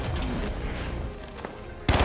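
Rapid gunfire in The Finals, a dense stream of shots at steady volume with a louder, heavier burst at the very end.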